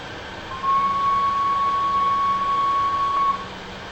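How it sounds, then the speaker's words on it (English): A steady electronic whistle tone from a train in Microsoft Train Simulator sounds for nearly three seconds at a constant pitch, then stops sharply, with no speech over it. "Try sounding the whistle now."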